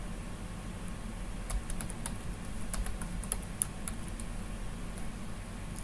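Password entered on a computer keyboard with a locally stored machine credential: a dozen or so light, scattered keystroke clicks, fairly close, over a steady low hum of background noise.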